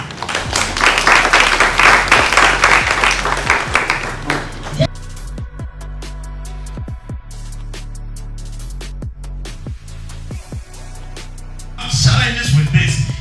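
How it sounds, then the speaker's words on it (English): A report launch audience claps briefly, a burst of loud scattered applause at the start that fades into sparse taps, with a short renewed round near the end. "Can we give them a hand of applause?"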